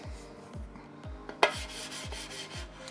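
A computer mouse slides back and forth on a SkyPAD 2.0 glass mouse pad with a steady, rhythmic scraping rasp. The strokes are fairly faint and close, and there is one sharper knock partway through.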